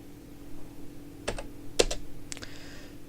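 Short bursts of keystrokes on a computer keyboard, a few quick clicks clustered at intervals, close and fairly quiet over a low background hum.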